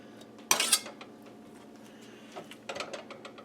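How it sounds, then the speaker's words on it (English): Metal utensil scrapes and clinks against a pan while gravy is scraped off meat, a sharp clattering burst followed by lighter scraping and clinks a couple of seconds later, close up with no talking. "I'm going to take the meat out of the pan here, scrape the gravy off."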